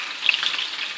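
Lamb pieces for a tajine with prunes hit a hot pan and sizzle in a bright, steady hiss with small crackling pops, close and continuous, with no voices.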